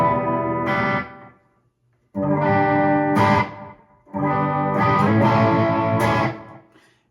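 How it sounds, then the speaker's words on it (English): Clean electric guitar tone played through a pedalboard rings out in three phrases of sustained chords with short pauses between them, close and fairly loud, with no one talking. "This is my clean tone, as I showed before."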